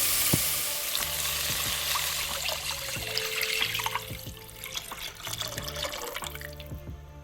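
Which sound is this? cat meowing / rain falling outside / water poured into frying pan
water poured into frying pan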